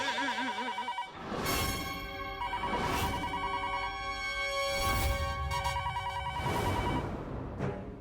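A telephone rings repeatedly, bright trilling bursts at a steady rhythm, clear and close with no talking.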